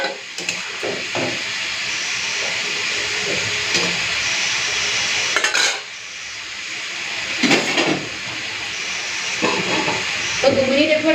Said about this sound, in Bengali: ঝোলটা ফুটে উঠেছে, মাছটা দিয়ে দিই এখন।